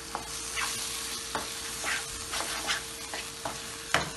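Pizza filling with oregano, salt and dry spices sizzles softly in a pan while its water cooks off, with a steady frying hiss broken by repeated scraping stirs of a spoon.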